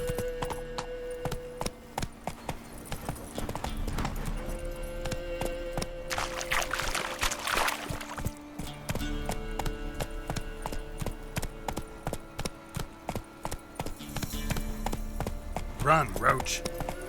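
A horse gallops in The Witcher 3 video game, its rhythmic hoofbeats thudding under game music and effects while a voice speaks at times.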